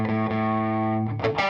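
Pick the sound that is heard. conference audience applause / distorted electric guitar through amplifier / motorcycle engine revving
distorted electric guitar through amplifier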